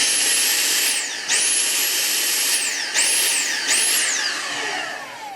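Dyson V6 Animal cordless vacuum cleaner with a badly clogged filter, running with a high whine that pulses, repeatedly dropping and surging back up in pitch several times, loud and close.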